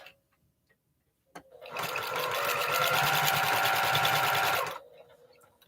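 A sewing machine runs a quarter-inch seam in one steady burst of about three seconds, a fast even rattle of stitches that starts abruptly and stops cleanly, close and alone with no talk.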